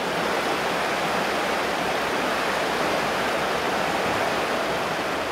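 A river flows outdoors in the Dore-Allier area, a steady, dense rushing hiss of water that stays constant and loud throughout, with no voices.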